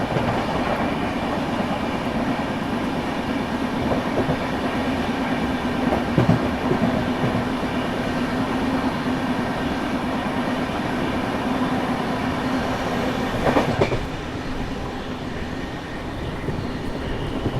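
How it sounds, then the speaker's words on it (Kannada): A train rolls past on the railway line near Rani Kamalapati in India, a steady loud rumble of wheels and carriages with rhythmic clatter throughout, easing slightly near the end. "ತೋರಿ ಇನ್ನೊಂದು ಟ್ರೈನ್"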